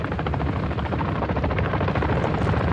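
Helicopter in the shooter game Warzone DMZ, its rotor beating in a loud, steady, close rhythm with a deep engine drone underneath and no talk.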